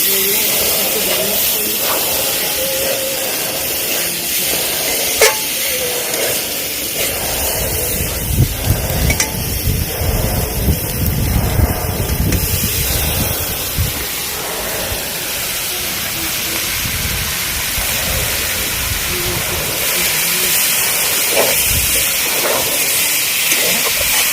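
Chopped onions frying in a kadai for dhaba-style karai chicken give a loud, continuous steamy hiss and sizzle, swelling into a stronger burst of spitting midway before settling back to a steady roar.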